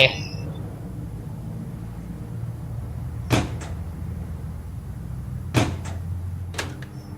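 A microwave door in The Microwave Paradox video game opens and shuts with sharp clunks, two pairs of close clicks spaced apart over a steady low hum.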